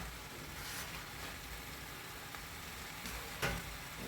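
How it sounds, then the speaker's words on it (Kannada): Vegetables and paneer sauté in a little oil in a home kitchen kadai, giving a faint, steady sizzle with a few soft stirring clicks. "ಸ್ವಲ್ಪ ಎಣ್ಣೆಲಿ ಈ ರೀತಿ ಬಾಡಿಸ್ಕೊಳ್ಳಿ."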